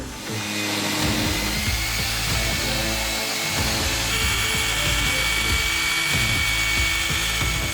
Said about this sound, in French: La ponceuse excentrique permet de travailler aussi bien le bois que les surfaces peintes.